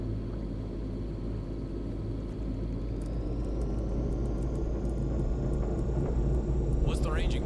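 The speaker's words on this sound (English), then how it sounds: "The sound of that engine running, smooth like a hummingbird." A submarine engine from the Santa Fortuna level of Hitman 2 runs as a steady, close low rumble and drone, with a brief higher flutter near the end.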